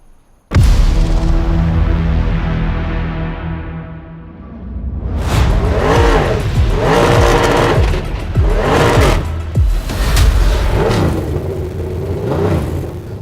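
A Cadillac Le Mans race car engine starts with a sharp bang, idles roughly, then revs hard in repeated loud, rising and falling surges.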